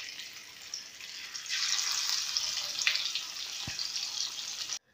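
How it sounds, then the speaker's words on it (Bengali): Fish, hilsa, frying in hot oil in a home kitchen pan: a steady bright sizzle that swells after a moment and holds, with a single low knock near the end before cutting off abruptly. "এবার আমি বাদ বাকি মাছগুলো ভেজে নেব"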